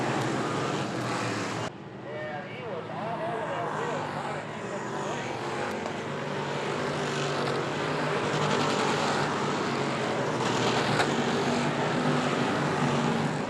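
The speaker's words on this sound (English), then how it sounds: "They'll come off the turn, nose to tail, as Sears swings up wide." Race cars roar through turns three and four on an oval track, a continuous loud engine drone swelling and shifting as cars pass nose to tail, with a commentator talking over the racket.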